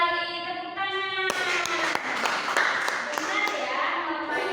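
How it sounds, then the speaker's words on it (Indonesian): Students in a micro-teaching classroom clap together in a short burst of sharp, sporadic claps that starts after a tone, then continues under someone talking. "Tepuk tangan."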